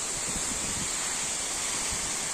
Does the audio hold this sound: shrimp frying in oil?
no